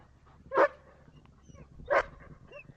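A reactive dog barks twice during e-collar training, two sharp, close barks about a second and a half apart over quiet outdoor background.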